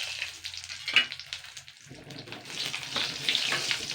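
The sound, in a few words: eggplants frying in fish-frying oil in a wok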